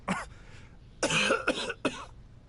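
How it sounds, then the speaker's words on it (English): Baizhu, a Genshin Impact video game character, coughs in a short burst followed by two more hacking coughs, close and clear with no talk. "if you make him run, like when you're playing as him, if you make him run, he'll cough"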